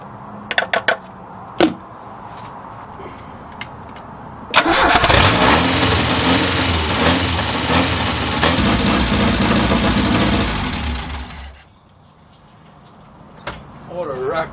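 A 1969 Ford Capri's 1600cc engine cranks and catches, then runs roughly and loudly for about seven seconds before cutting off. Voices talk briefly before it starts and again after it stops.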